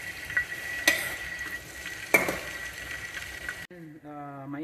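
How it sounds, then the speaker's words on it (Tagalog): Garlic sizzles in hot cooking oil in a pan with a continuous crackling hiss, broken by two sharp clanks of stirring. A voice speaks briefly at the end. "Ilalagay ko na yung unahin ko na yung bawang or garlic."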